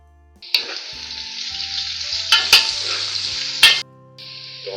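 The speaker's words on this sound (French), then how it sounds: "Je verse mes morceaux de viande." Beef pieces drop into a pan of frying onion, leek and bell pepper, triggering a loud, bright sizzle broken by a few sharp clanks of stirring before it drops away briefly.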